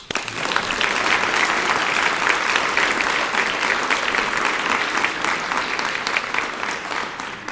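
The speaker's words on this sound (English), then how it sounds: "Round of applause." Steady, enthusiastic applause from a sizable audience at a Rotary Club meeting, dense clapping sustained for several seconds before gradually tapering off.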